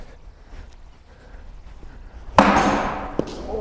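Baseball bat striking a ball during a hitting drill: a single sharp, loud crack lands near the middle after a quiet stretch, followed by a rustling, noisy tail and a smaller knock.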